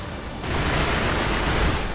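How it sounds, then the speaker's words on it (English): Firecrackers bursting in the video game Sekiro, a dense crackling, booming blast that swells after a brief lead-in and rumbles on loudly for a couple of seconds with no talk. "Got both of them with firecrackers."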